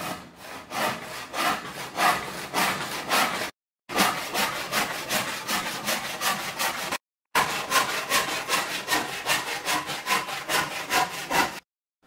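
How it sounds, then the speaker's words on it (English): A handsaw cuts through a form plywood board in quick, rhythmic rasping strokes, close and steady, in three runs separated by brief pauses. "Alright, gonna need a handsaw."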